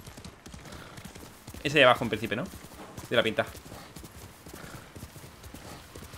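Horse hooves clip-clopping in the video game Ghost of Tsushima, with a steady walking beat and a prominent whinny, heard under someone talking in Spanish.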